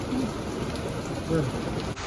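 Heavy rain pours down in a dense, constant roar, with a couple of faint voices barely surfacing beneath it.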